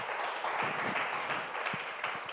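A church congregation claps during a Sunday morning service, a soft, dense wash of applause with a few distinct nearby claps, fairly quiet and distant.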